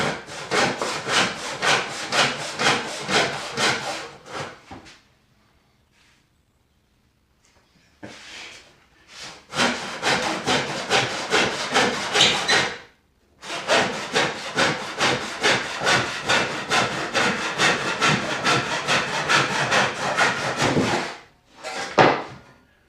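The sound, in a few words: hand saw cross-cutting wood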